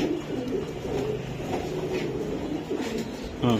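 Racing pigeons at a club loft coo steadily in low, rolling calls, several birds overlapping close by, with a brief louder flutter near the end.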